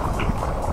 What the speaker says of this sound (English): It's windy, it's onshore,